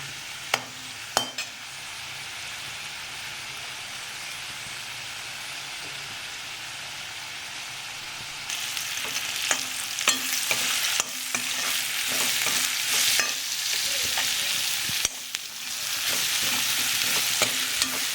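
Vegetables seasoned with coriander powder fry in a pan, a quiet sizzle at first that grows louder and brighter, punctuated by clinks and scraping stirs of a spoon.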